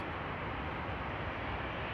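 Steady broad jet roar from a Dornier 328 jet aircraft landing at Frankfurt Airport, a continuous even engine rumble without talk.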